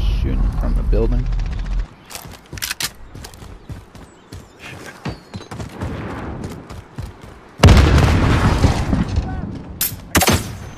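Gunfire rings out from a building during a hardcore Team Deathmatch multiplayer match in Call of Duty Modern Warfare, with bursts of sharp shots and heavy booms scattered across the clip and a loud volley near the end, under frequent talk.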